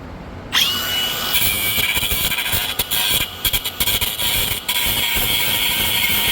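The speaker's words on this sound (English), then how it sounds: "I'm starting to weld this up using the flux core welder, the middle one with no gas" A gasless flux core welder lays a weld on a steel plow mount being fitted to a Ford Ranger. After a short quiet start, a loud, close, continuous crackling buzz runs with several brief breaks.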